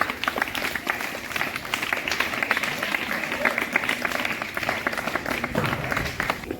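School audience applause at Sitaram Vidyalaya: a crowd claps steadily for several seconds, a dense continuous patter with faint voices mixed in.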